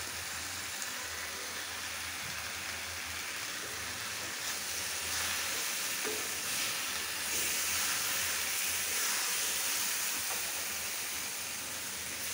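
Bottle gourd leaves cooking in a pan give off a soft, even hiss with faint crackles, heard quietly and steadily with no speech.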